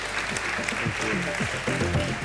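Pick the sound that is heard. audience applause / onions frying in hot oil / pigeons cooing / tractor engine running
audience applause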